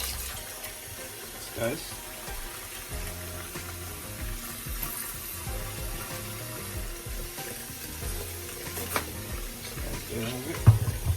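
A kitchen tap runs steadily into a sink while raw chicken is washed in vinegar water, a soft continuous splashing with occasional clatters, and a voice speaks briefly over it.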